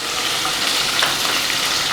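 Green chillies and curry leaves fry in hot oil for a Kerala sadya-style ginger curry, giving a steady, loud, dense sizzle that holds evenly throughout with no voices.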